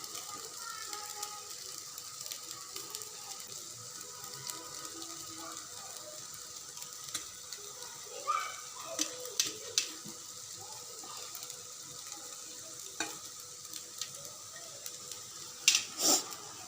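Chow mein noodles are stir-fried and mixed with a fork in a pan for a street-style veg dish, a steady soft sizzle with scattered scraping clicks, and a voice speaks now and then.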